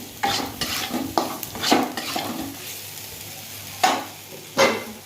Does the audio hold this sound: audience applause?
no